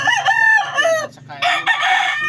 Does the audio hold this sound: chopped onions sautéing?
no